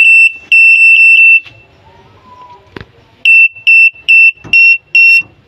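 Aftermarket parking sensor warning beeper fitted in a Suzuki APV gives a loud, shrill, evenly spaced run of beeps, pauses amid faint clatter and a thump, then resumes in a quicker pulsing series.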